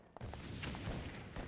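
Distant mortar shelling and gunfire on a battlefield in the Eternal Darkness video game, a few muffled booms and thumps over a low continuous rumble, faint and without speech.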